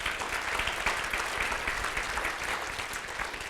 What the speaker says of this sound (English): let's give Steve and INAPS a round of applause for that work.